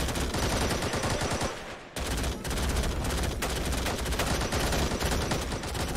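Dense, continuous gunfire from the Call to Arms video game, with overlapping rifle and machine-gun bursts crackling without pause for the whole stretch, loud and chaotic apart from a brief dip.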